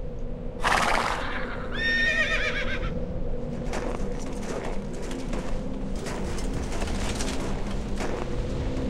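Horses neigh in a loud, close whinny, then a second shaky, quavering neigh follows, with hooves clopping and pigeon-like cooing underneath throughout.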